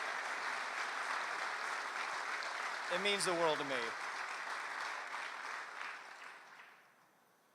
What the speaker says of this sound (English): Give these people who have shaped and touched my life in different ways a big round of applause.